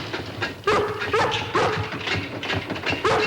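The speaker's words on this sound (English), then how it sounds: "Stop that barking, girl." A collie barks repeatedly in sharp, rhythmic bursts at a new refrigerator, loud and close, with no talking.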